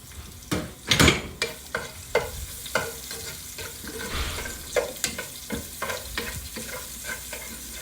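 Garlic is added to a pan where eggplant is being fried, giving steady sizzling with repeated scraping and stirring strokes and clattering utensil hits, close and fairly loud, no voices.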